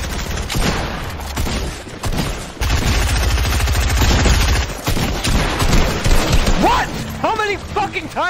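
Dense video game gunfire with rapid automatic bursts and heavy shots, loud and continuous over most of the stretch, with game effects and a brief lull between volleys.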